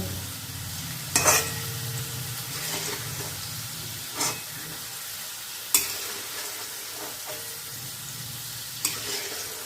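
Garlic frying in hot oil for a garlic-infused oil, a steady soft sizzle broken by a few sharp stirring scrapes, close and moderately quiet with no talking.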